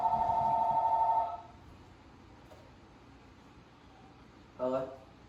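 A mobile phone rings nearby with a loud electronic tone for about a second, then falls silent before a brief second burst of ringing follows.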